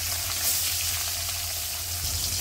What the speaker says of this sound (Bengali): তেল গরম হয়ে গেছে, এখন আমি মাছ দিয়ে দেবো।